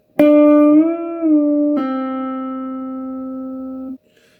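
A clean, loud electric guitar blues lick rings out alone: a bent string glides up and comes back down, then a pull-off snaps onto a lower note that sustains for a couple of seconds before being cut off.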